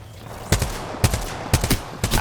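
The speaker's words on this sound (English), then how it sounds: "all is well when you hear gunshots" Four sharp gunshots in the video game Apex crack at a steady pace, each a loud, punchy burst with brief echo, fired close and with no voices.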